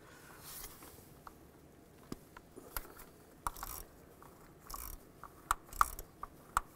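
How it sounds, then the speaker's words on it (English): An 8mm socket ratchet works the starter nut on a 2002-2009 Chevy Trailblazer, giving scattered quiet clicks and short metallic ratcheting bursts at close range with no talking. "Take that nut off."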